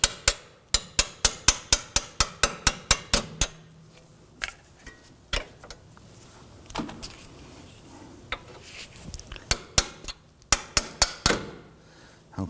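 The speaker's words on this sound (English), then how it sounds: "I like to use a punch in the center. There I can follow these bolts right through." Hammer strikes on a punch driving strut bolts out of the front steering knuckle of a 2005-2009 Subaru Legacy: a fast run of sharp, loud metallic taps, a quieter stretch with scattered knocks, then another quick burst of hits.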